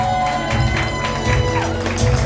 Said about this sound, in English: Right, let's have a final round of applause for these two.